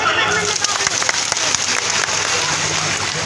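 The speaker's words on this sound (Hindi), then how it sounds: "जोरदार तालियां" A crowd applauds steadily and densely at a cultural gathering of the All Assam Paraja (Kui) community, the clapping sustained and fairly loud with some voices mixed in.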